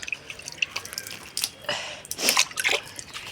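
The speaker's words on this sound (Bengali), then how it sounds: "এখন আমি হাত মুখটা ধুয়ে নিই" Water splashes and drips close by as someone washes their hands and face, with irregular small splashes and trickles rising and falling over a few seconds.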